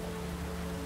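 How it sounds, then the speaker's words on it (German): Steady rain falls in The Witcher 3, a dense, even hiss of drops without pause, moderately loud and close, alone with no talk over it. "Das ist schon wieder Regen"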